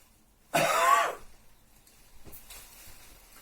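A single harsh cough or throat-clearing, loud and close, followed by quiet rustling and faint background noise.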